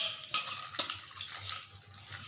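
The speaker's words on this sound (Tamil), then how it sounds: "கொஞ்சம் கொஞ்சமாக தண்ணி ஊற்றி கலக்கணும்" Water is poured gradually into maida flour for dosa batter, a close continuous splashing trickle with a few small splashy spikes, steady and moderately loud.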